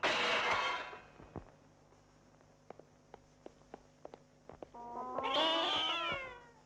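A house cat meows loudly at the start, then light footsteps tap sparsely through a quiet stretch before a long drawn-out yowling meow rises near the end.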